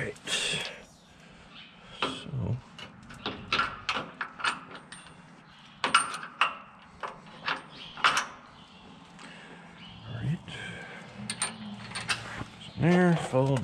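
Metal bolts slid back onto inner bushings, giving a string of short clicks, scrapes and light metallic knocks at close range, with some faint background noise between them.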